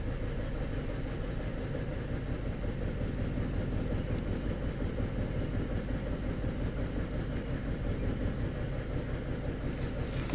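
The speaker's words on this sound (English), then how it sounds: "So the engine is running, you know, the RPMs aren't changing." A car engine suspected of an intermittent P0300 misfire idles at a steady, unchanging speed, a low, even, continuous hum running alone with no change in pitch.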